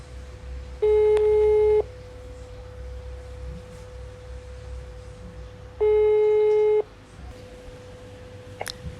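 A telephone ringback tone while a call to a friend connects: two separate one-second buzzing tones separated by a long quiet gap, clean and steady over a faint background hiss.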